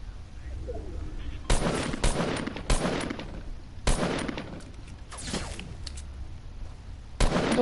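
Video game gunfire, several loud broadband bursts arriving in irregular clusters of shots with brief gaps between them, close and sharp over a steady low background rumble.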